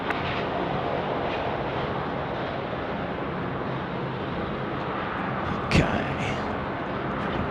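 Airliner landing at night on runway 16 right at Sydney Airport, a loud, steady broadband jet roar filling the whole clip, with a brief sharper thump or rumble toward the end.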